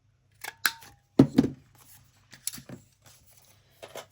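Small crafting scissors snip and rustle against paper card in short, close, irregular bursts, with quiet pauses between cuts and no talk.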